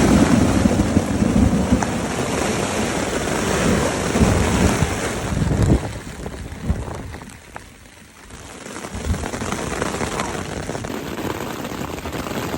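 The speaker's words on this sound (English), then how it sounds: "It's been thundering and raining on and off." Thunder and rain heard from inside a tent while camping, with a loud, broad rumble and steady rainfall noise that ease off briefly near the middle before building again.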